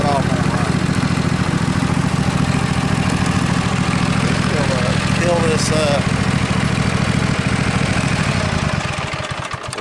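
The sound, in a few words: Husqvarna Z254 zero-turn mower engine running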